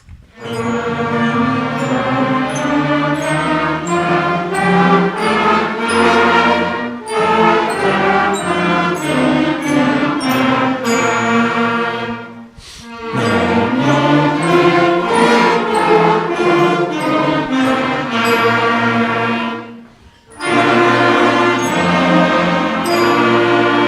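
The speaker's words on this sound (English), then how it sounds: "We will play our scale for the audience right now." A sixth-grade school band plays a major scale together in sustained, stepwise notes, pausing briefly between phrases, loud and full.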